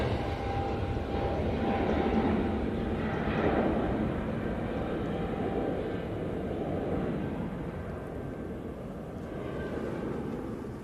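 An EasyJet Airbus A320neo airliner takes off at Manchester Airport, a steady, broad distant roar of jet engines that holds and slowly fades, with no talk.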